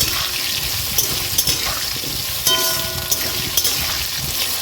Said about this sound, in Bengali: দিয়ে ভালো করে মিক্স ভেজে নেবো আলুটা